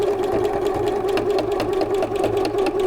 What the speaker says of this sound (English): So I'm sewing this with a 3/8 inch seam allowance.